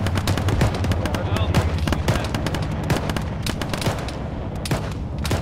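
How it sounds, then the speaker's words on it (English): Grenades and gunfire in the Arma video game: sharp repeated bursts and booms crackle densely over a constant rumbling battle bed, close and loud, with voices faintly present under the shooting. "They're shooting grenades at us."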